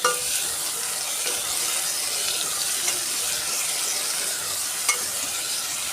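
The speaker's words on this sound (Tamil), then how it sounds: "தக்காளி சேர்த்துட்டு நல்லா கிளறி விடணும்." Tomatoes are stirred and sautéed in hot oil with onions for a prawn curry, giving a soft, steady sizzle with occasional scraping stirs close by, and no talk.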